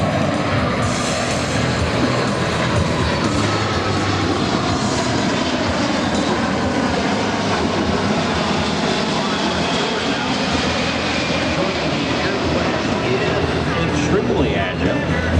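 A C-17 military transport jet roars continuously at an air show, a broad steady engine rumble and whoosh that stays loud throughout, with voices faintly mixed in.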